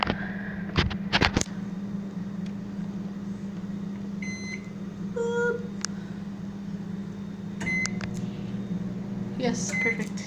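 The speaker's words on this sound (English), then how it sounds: "Microwave." A microwave oven in a hotel suite kitchen hums steadily throughout, with several short beeps and a cat meowing nearby, plus someone speaking briefly.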